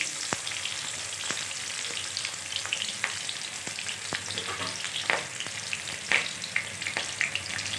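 Onion fries in hot oil with spluttering mustard seeds, a continuous close sizzle broken by sharp pops and crackles at irregular intervals, with no voices.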